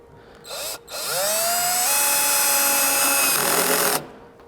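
A Dnipro-M CD-218 or CD218Q cordless screwdriver drives a screw into wood: the motor whirs up briefly, stops, then runs in a steady, rising whine for about three seconds before cutting off, loud and close with no talk.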